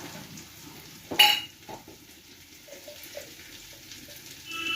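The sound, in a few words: spices being fried and stirred in a pan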